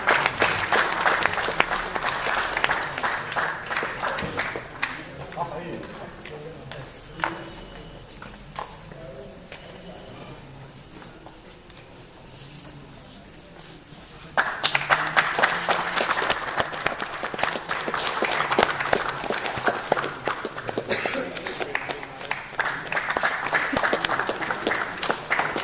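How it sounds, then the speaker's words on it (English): Audience applause at a felicitation during a geothermal energy talk at KIIT Bhubaneswar, lively clapping that dips to a quieter patter midway before swelling again loudly, with a voice briefly heard over it. "please, a big round of applause"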